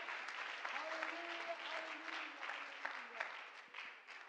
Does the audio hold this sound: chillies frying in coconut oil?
no